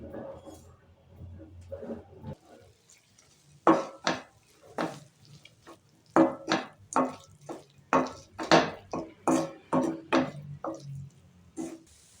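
A teaspoon each of black pepper and cumin fry in a pan for Tamil Nadu-style kara kuzhambu. After a quiet start, close, rhythmic scraping and rattling stirs repeat steadily for several seconds.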